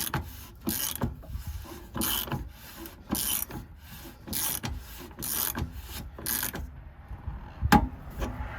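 A hand socket wrench with a 36 millimeter 6-point socket tightening a plastic housing on a 3.0 Duramax Suburban, giving repeated close ratcheting clicks in short rhythmic strokes, then a final sharp click.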